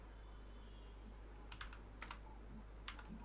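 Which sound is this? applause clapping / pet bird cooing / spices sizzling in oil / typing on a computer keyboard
typing on a computer keyboard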